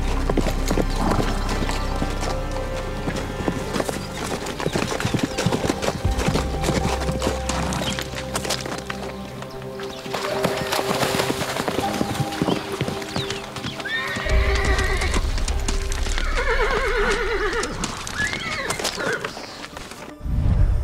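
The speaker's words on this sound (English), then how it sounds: "Horses fight with all they've got, charging and ramming or even biting." Wild brumbies brawl, with loud neighs and whinnies cutting over the thud and clatter of hooves as the horses charge and ram, a sustained, close, chaotic scuffle.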